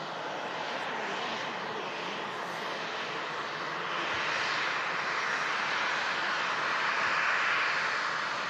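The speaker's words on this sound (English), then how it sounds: "It's Ryanair arriving in after a 2-hour, 17-minute flight" A simulated Ryanair airliner arriving after a two-hour flight in a flight simulator, giving a steady, loud broadband engine roar that swells slightly toward the end, with no voices.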